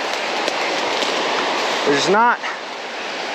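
Rushing water of a stream rapid, a steady broadband hiss close to the microphone, with someone speaking briefly over it.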